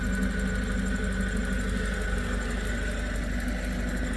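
Firewood processor engine running steadily, a close, continuous mid-to-low mechanical drone with a constant idle-like tone and no talk, on a processor whose hydraulic rams drive spikes that feed logs.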